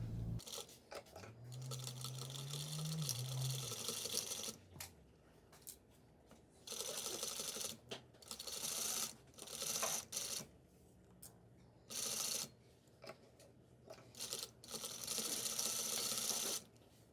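A sewing machine stitches a striped pillow fabric layered with pink fabric, running in rapid bursts of whirring stitches separated by brief pauses, close and moderately loud.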